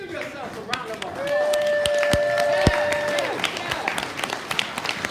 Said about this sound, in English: Storytellers and honorees, give yourself a round of applause.